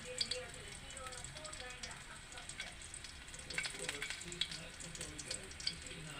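Crab sizzles in a pan as it is sautéed with garlic and ginger, giving a soft, continuous crackle and spatter with scattered sharper pops.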